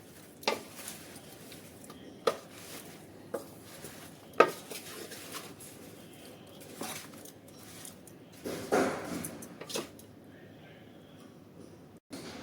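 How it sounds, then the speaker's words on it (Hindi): Spiced oil is being stirred into mango pickle with a spoon, heard as a few sharp clinks and scrapes against the vessel over a quiet background, with one louder clatter near the end. "पहले थोड़ा सा डाल करके मसाले वाला आयल और इनको अच्छे से हम मिक्स करेंगे।"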